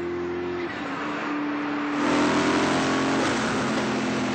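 A Gumpert Apollo supercar's engine accelerates hard on the road, a brief dip in the note as a gear changes, then a louder, stronger roar from inside the car.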